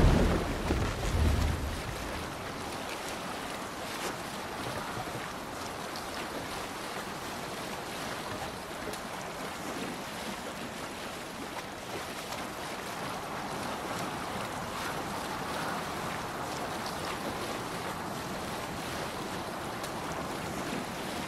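A Viking longship cuts through ocean waves in Assassin's Creed Valhalla, with continuous rushing water and wind-like surge, loud at first and then holding a steady, dense wash for about twenty seconds.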